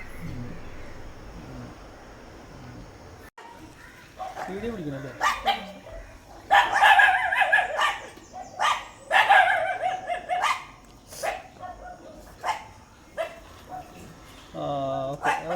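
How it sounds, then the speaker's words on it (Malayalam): A street dog that has fallen into a drinking-water well barks and whimpers in repeated loud yelps with a hollow echo, while people talk nearby. "അവിടെ ഒരു കുടിവെള്ള കിണറ്റിൽ ഡോഗ് വീണ് കിടക്കുകയാണ്."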